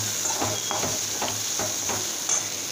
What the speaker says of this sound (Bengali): আলু পটলটা বেশ খানিকক্ষণ ভালো করে ভেজে নিতে হবে